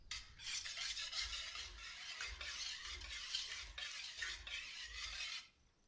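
Butter is stirred slowly into a chocolate ganache, a soft, close scraping and swishing repeated in gentle strokes before stopping near the end, with no speech.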